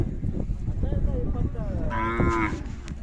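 A young black Khillar bull lows at a village fair, giving a close, drawn-out moo that rises over the low crowd murmur in the background.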